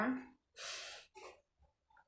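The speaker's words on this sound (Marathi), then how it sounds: "एक दीर्घ श्वास घ्या." A slow, deep breath is drawn in and released during a guided seated meditation, audible as a breathy inhale-exhale with short soft breaths after it, close and fairly quiet.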